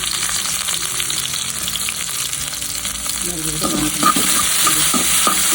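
Onions sizzle steadily in a hot pan, with a few scraping stirs joining in partway through; no one speaks.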